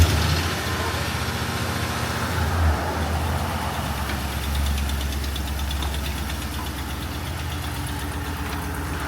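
A 2007 Ford F350 pickup, a former plow truck fitted with a newer flatbed, idles nearby with a steady low rumble and a faint ticking knock running evenly throughout, with voices murmuring faintly underneath.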